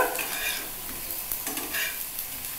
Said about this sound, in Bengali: একটু তেলের মধ্যে একটা শুকনো লঙ্কা ভেজে নেব